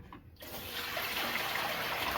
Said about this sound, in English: So what you do is put it in water